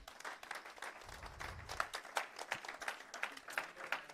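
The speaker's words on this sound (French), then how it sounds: "Acclamez pour vous-même." A church congregation applauding during a sermon, a steady patter of clapping hands that rises and falls.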